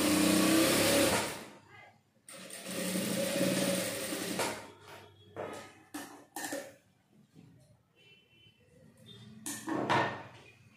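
A tailoring sewing machine stitches a straight seam in short bursts, a loud run at the start and another in the middle, separated by quieter handling clicks and pauses, fairly close.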